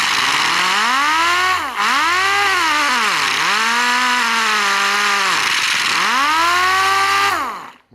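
A Bondo Hog air sander runs with a loud, close motor whine that repeatedly dips and swells in pitch, then cuts off abruptly.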